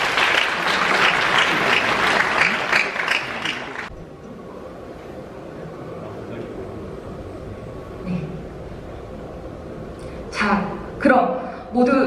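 A burst of enthusiastic applause from wedding guests fills the first few seconds, then fades into quieter room murmur with a couple of short claps near the end.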